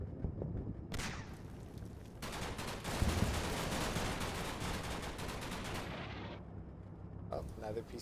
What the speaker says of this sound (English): Another piece of artillery.